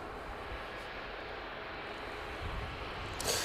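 A Ryanair jet bound for Valencia entering runway 09 at East Midlands Airport, a steady moderate engine rumble and whine that swells slightly near the end with a short burst of noise.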